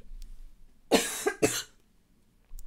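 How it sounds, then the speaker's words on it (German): Two or three sharp coughs in quick succession, fairly close, in an otherwise quiet room. "Entschuldigung, ich muss husten."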